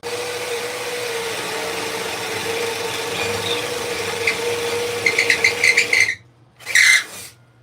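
A power drill whirs steadily with a constant motor whine, then revs in short bursts before stopping and spinning up briefly once more.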